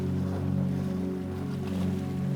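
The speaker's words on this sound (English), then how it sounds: "only the faint natural sounds of wood and tide" Tide water lapping gently around wooden dock posts at night, a soft, steady wash with a low hum and no voices.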